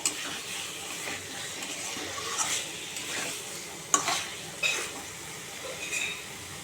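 Boiled potatoes and eggs are sautéed and stirred in a pan for egg biryani: a low continuous sizzle with occasional scrapes and metallic clinks of a spoon against the pan, close up and without voices.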